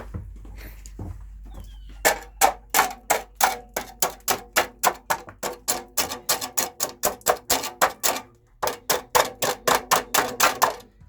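A steel trowel chips at a small bump on a concrete chicken coop floor, giving a fast, steady run of sharp close knocks that continues for about nine seconds with only a brief pause.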